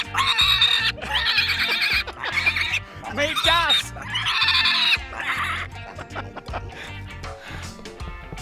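A small male pet pig lets out several loud, shrill squeals mixed with short grunts in bursts, while a person talks over and between them.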